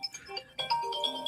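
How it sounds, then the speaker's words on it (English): A phone ringtone sounds for an incoming call, a short melodic electronic jingle of rising and falling tones at moderate volume. "Somebody's getting a phone call."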